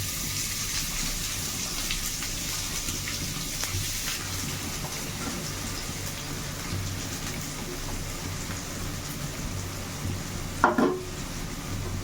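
Chopped onions sizzle steadily in hot oil with cumin and bay leaf, cooking for palak paneer; the frying gives a soft, continuous crackle with a brief clatter near the end.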